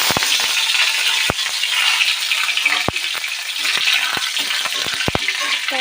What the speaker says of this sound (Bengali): তেল গরম হয়ে গেছে, এতে আমি দিয়ে দেবো রসুন কুচি